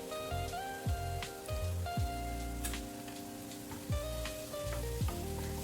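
Onions with salt sautéing in a pan for a chicken roll filling, a steady sizzle with periodic scraping stirs and faint music running underneath, no talking.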